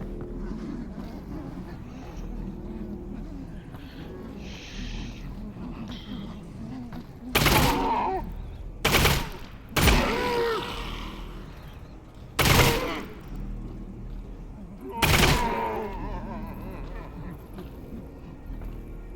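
Gunfire in the VR game Half-Life: Alyx, five sharp loud shots spaced a couple of seconds apart over a low rumbling game background, with some talking.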